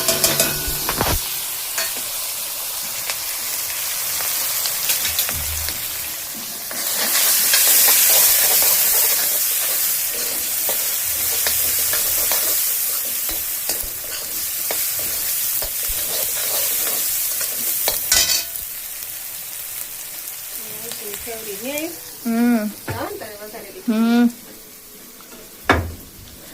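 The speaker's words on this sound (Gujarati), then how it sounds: "રાઈ કકડે કડકડ કડકડ અવાજ આવે" Mustard seeds with asafoetida crackle and sizzle in hot oil in a home kitchen, a steady dense hiss with sharper pops and stirring, while someone talks over the final few seconds.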